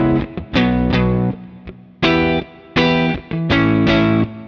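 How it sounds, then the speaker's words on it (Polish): Electric guitar through an amp set on the edge of breakup, struck chords ringing loud and close, shifting from clean to overdriven tone with several sustained strums and short gaps between them. "Gdy uderzę mocno, no to mam brzmienie przesterowane"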